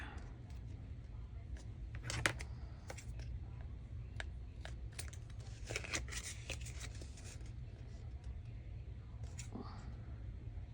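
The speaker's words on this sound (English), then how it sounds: "Let's go ahead and cut our tag shape." Scissors snip through 6x6 patterned paper to cut out a pocket tag shape, giving a scattering of short, crisp cuts and rustles over a steady low room hum, with no talking.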